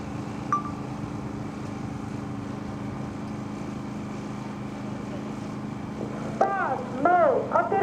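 US Navy Blue Angels jets take off in formation at the 2025 Wings Over South Texas Air Show, a steady distant turbine roar that swells toward the end, with a commentator talking over it.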